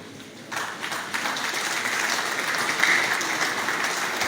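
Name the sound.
audience applause in lecture hall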